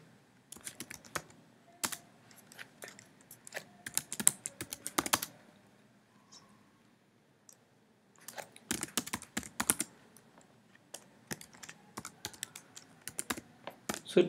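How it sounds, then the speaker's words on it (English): Someone types an SQL command to drop a database on a computer keyboard, producing crisp, close key clicks in two quick bursts separated by a brief pause. "so to delete, we will type drop database, database, and then database name."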